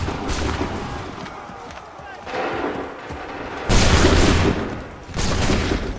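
Musket volleys in the Assassin's Creed 3 video game, with loud crackling bursts of massed gunfire that come in waves and fade between them, while voices shout commands.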